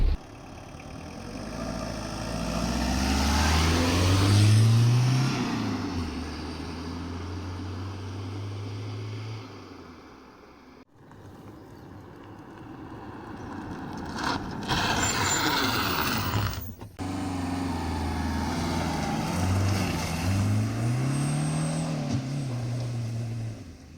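A diesel car engine, its fuel flow turned up, runs steadily for the whole stretch, a low mechanical drone with a brief dip partway through before it picks back up.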